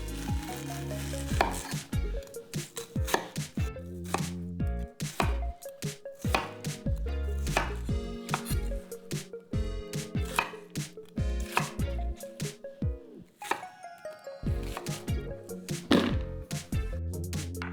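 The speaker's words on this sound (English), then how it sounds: "I cut east to west or west to east" Onions being sliced with a kitchen knife on a cutting board for jajangmyeon, cut about half an inch thick: a steady, close run of crisp chopping taps, some quick bursts and brief pauses, with no talking.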